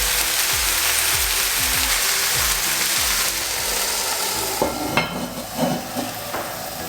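Leeks cook in a lidded pan over low-medium heat, giving a soft steady sizzle and bubbling, with a few clanks and scrapes of the pan and lid.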